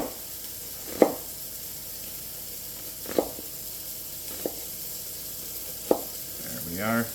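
Bacon and onion cooking in a pot for corn chowder, a soft steady sizzle broken by four sharp utensil knocks spaced a couple of seconds apart, with a brief voice near the end.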